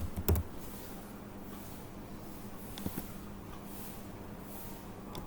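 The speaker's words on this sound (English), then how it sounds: "on the search bar I'm going to type in download Python." Brief bursts of typing on a computer keyboard during a web search, a few quiet key clicks near the start and middle over faint room noise.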